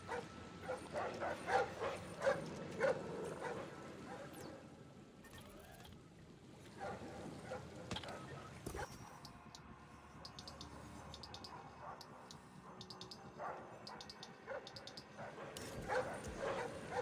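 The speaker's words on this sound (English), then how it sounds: "Oh shit, three dogs." Several dogs bark and yip in the Splinter Cell Blacklist game, with sharp repeated bursts over a murky ambient backdrop; the barking comes in clusters, most densely near the start and again toward the end.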